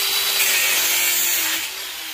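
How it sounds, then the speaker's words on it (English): An angle grinder cuts copper off a yellow brass valve clamped in a vise, a close, loud, harsh abrasive whine with a hissing grind that holds steady and then eases off near the end, with no one talking. "We'll take your grinder, cut off this copper."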